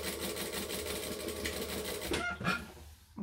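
A sewing machine stitches a tote bag in a fast, even, rattling rhythm that runs for about two seconds, then slows and stops with a couple of soft clicks.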